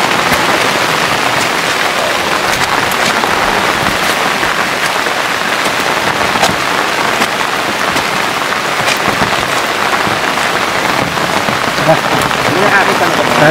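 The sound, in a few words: heavy rain from an approaching storm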